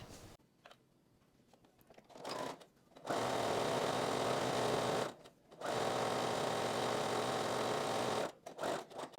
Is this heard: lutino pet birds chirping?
no